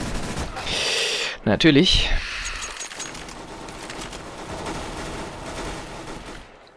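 Automatic rifle fire is sprayed in Counter-Strike: Global Offensive, a burst of rapid shots early on, then sustained, dense game noise under a man's spoken reaction.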